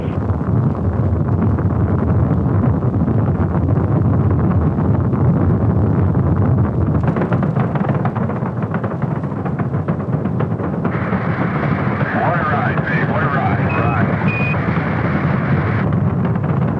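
Apollo 10 Saturn V rocket engines roaring at liftoff, a continuous loud broadband rumble with wind-buffeted distortion that holds steady throughout, with a higher hissing band joining in the later part.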